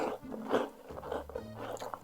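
Crunchy homemade dark chocolate cookies are bitten and chewed up close, with a few crisp crunches followed by softer chewing, no talking.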